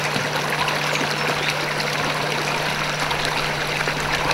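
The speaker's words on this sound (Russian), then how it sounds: "Но родник, о котором говорится в легенде, на самом деле существует." Spring water flowing and trickling steadily, a constant broadband rush with no pauses, fairly close, alongside a faint steady low hum.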